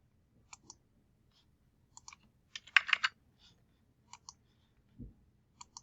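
Sharp, quiet computer mouse clicks, single and in pairs, with a brief denser cluster near the middle, close and isolated with no talking.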